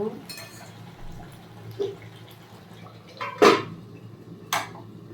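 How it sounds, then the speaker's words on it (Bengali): A metal lid clanks off a pot of simmering chicken, with a sharp clatter near the middle and a lighter knock after it over a low kitchen background. "আবারও ঢাকাটা খুলে দেখে নেব"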